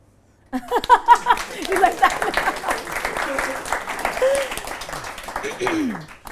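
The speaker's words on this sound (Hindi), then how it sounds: "तालियां।" After a host calls for applause on a comedy interview show, a burst of clapping starts abruptly and continues steadily, mixed with some chuckling and light chatter from people nearby.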